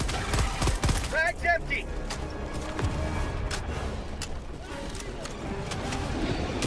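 Gunfire in Helldivers 2 on a hellish planet, dense rattling bursts from a machine gun and other weapons mixed with crashes and game noise, steady and loud throughout, with voices talking underneath.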